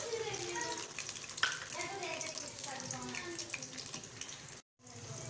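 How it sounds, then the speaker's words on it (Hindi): Onions fry in hot oil in a preheated kadai, a soft, steady hiss and sizzle that sits under a person talking. "सबसे पहले हम डालेंगे ऑयल। कढ़ाई हमारी पहले से ही गर्म है। साथ ही डालेंगे प्याज।"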